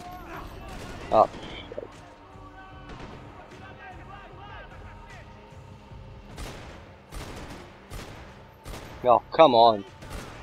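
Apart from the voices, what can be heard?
gunfire in video game Max Payne 3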